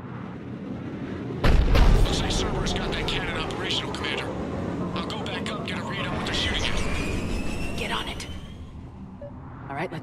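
Booming video-game cannon fire thunders with a heavy blast, followed by rumbling battle noise, aircraft drone and scattered shots under voices.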